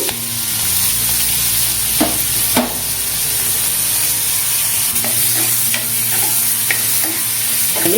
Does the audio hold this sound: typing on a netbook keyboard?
no